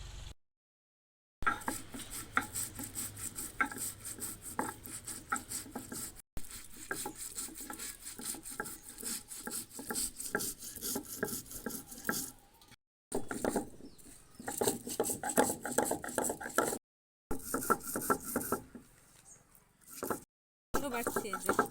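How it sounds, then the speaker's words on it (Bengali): Ginger, chilli, garlic and tomato being ground on a stone slab for a village duck curry: a steady rough rasping and scraping, close and continuous with a few short breaks, with some voice at times. "এবার আমি শিলে বাটবো এগুলো।"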